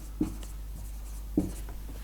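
A pen scratches numbers onto paper in two short bursts, close and quiet against a low steady hum, with faint softer strokes in between.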